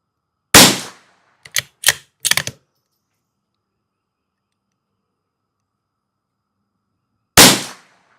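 A Savage Mk II FV-SR rifle fires rimfire match ammunition outdoors, giving a loud, sharp crack followed after a pause by several quick mechanical clicks, then silence and a second loud crack.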